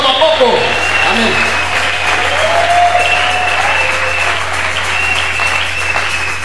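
A church congregation applauds and cheers for the Lord in a sustained, dense wash of clapping that holds at a steady loudness, with a voice carrying over it.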